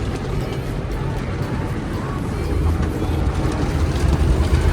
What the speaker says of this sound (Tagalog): may makina na tutulak na sasakyan